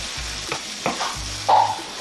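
Tomato puree being stirred into frying keema in a pan makes a short close hiss with a few spoon scrapes and knocks, no voices.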